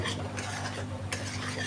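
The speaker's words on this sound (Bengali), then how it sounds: "এবার বেশ ভালো করে নাড়তে হবে" A spoon stirs paneer in a pan with a little ground black pepper, making a soft continuous scraping and gentle sizzle, close and quiet, with no voices.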